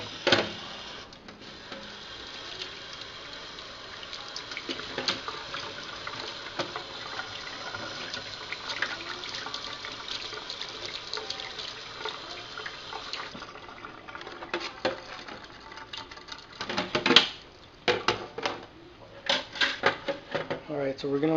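Water runs steadily while dusty plastic pieces from a PS3 are washed, a continuous faucet-like wash with clattering handling and knocks growing busier toward the end.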